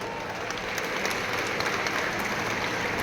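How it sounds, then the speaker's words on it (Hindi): Traffic volunteers at a traffic-improvement event in Indore applaud together, a dense, sustained crowd clapping that stays even and loud from start to finish. "तो भाई सारे ट्रैफिक मित्र एक बार अपने लिए खुद के लिए तालियां जरूर बजाइए।"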